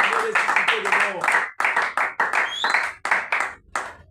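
A congregation claps and applauds at an Easter worship celebration, rhythmic clapping in bursts mixed with voices calling out and speech over it.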